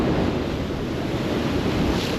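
Rough storm surf surges against the sea wall at Dawlish during Storm Nelson, a loud, continuous wash of churning water and wind roar close by, with no distinct individual impacts standing out.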